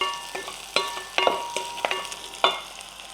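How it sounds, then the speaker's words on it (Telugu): Green chillies and onion frying in a pan for a green chilli paneer ghee roast: a steady sizzle under repeated clinks and scrapes of stirring, close up, with no talk. "పచ్చిమిర్చి వేగాలి, ఉల్లిపాయ వేగాలి,"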